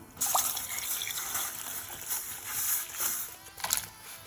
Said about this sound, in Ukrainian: У бульйон доливаємо води